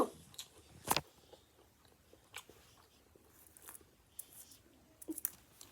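Crackers being bitten and chewed close to the mic: one sharp loud crunch near the start, then scattered softer crunches and smacking chews with quiet gaps, no talking.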